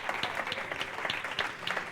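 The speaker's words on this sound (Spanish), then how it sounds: "Y aplausos." A congregation at a Sunday Easter church service claps in steady, moderately loud applause that fills the room for a couple of seconds, with no voices over it.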